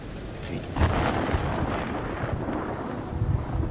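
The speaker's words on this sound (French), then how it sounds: "L'orage est à 8 bornes." Thunderstorm in the video game Man of Medan, with a rolling thunder rumble and steady rain noise, fairly quiet and distant-sounding, holding low throughout with a couple of soft swells.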